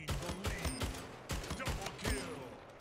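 Rapid tap rifle fire in the SplitGate sci-fi arena shooter, several quick bursts of sharp shots in an uneven rhythm with mechanical clanks, fairly quiet overall.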